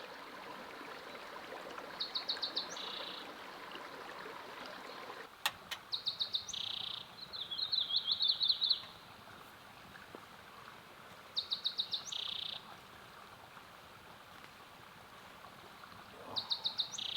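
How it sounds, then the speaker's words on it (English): Birds sing in short repeated trilling bursts beside a babbling stream at a campsite in the Chiricahua Mountains, the water a soft steady wash underneath the clear chirps. "You can hear the birds singing, and it's right next to the babbling stream"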